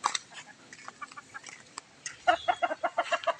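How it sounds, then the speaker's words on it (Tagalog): Several chickens cluck nearby in short, choppy bursts, growing busier and louder toward the end. "Ito po yung mga manok."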